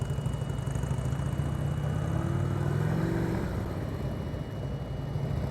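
A motorcycle rides slowly around cones on a wet, rainy practice lot, its mid-pitched engine putting steadily with a brief rising rev in the middle, moderately close and without talk.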